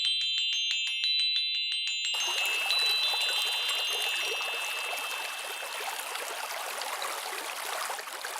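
A mountain stream flows in a steady, bright rushing wash after a short opening of tinkling chime tones, the water noise continuing evenly to the end.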